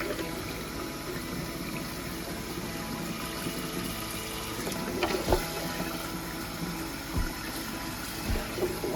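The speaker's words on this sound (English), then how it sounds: "I put cold water on them, and I peel them right away." Cold tap water running over hard-boiled eggs in a pot, a steady rushing splash with occasional knocks of eggs against the pot, close and continuous.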